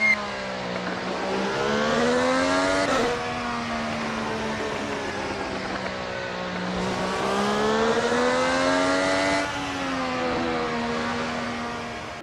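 Race cars run wheel to wheel down the Hulman Boulevard straight in a Sonsio Grand Prix racing video game, engines whining loudly through rising and falling revs and gear shifts throughout.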